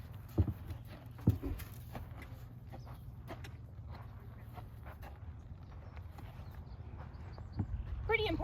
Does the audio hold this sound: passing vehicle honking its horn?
no